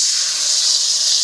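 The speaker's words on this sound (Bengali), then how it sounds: "ঢেলে দিলাম আদা বাটা" Ginger paste mixed with turmeric dropped into hot oil in a wok for a Bengali doi potol dish, a loud, steady, close sizzling hiss with no talk.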